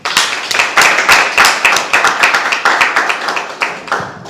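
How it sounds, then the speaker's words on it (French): An audience applauds at a conference talk on economic intelligence in African markets, a short burst of brisk, closely spaced handclaps that stays loud and even before thinning toward the end. "Applaudissez s'il vous plaît."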